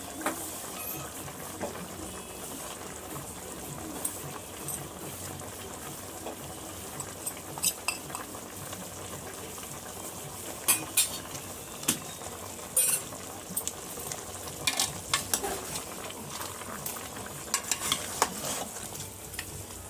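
Chicken korma with yogurt and spices fries in a pot, a soft continuous sizzle and bubble with scattered clinks and scrapes of a spoon stirring, steady and fairly quiet throughout.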